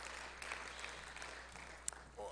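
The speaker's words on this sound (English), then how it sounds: "Let's give the whole worship band another round of applause." Congregation applauding a church worship band at a fall revival service, a fairly soft, diffuse patter of clapping spread across the room, with a sharper knock and some murmured voices toward the end.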